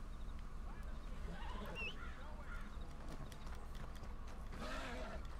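Hoofbeats from a horse in a Western-style video game, a steady clip-clop running under constant background game ambience and occasional bird-like calls, with no clear talk.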